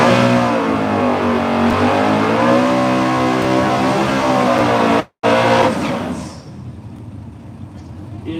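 A 1986 Mustang drag car with a 410 engine revs loud and close at a drag strip, a sustained roar that shifts pitch, cuts out sharply for a moment, then drops to a lower rumble as the run fades.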